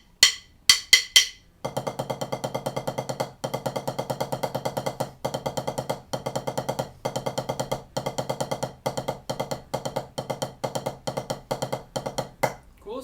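Sixteenth-note single strokes on a drum pass evenly from hand to hand in a sixteenth-note exercise, close and crisp. The playing comes in steady bursts broken by short gaps, with a few isolated hits at the start.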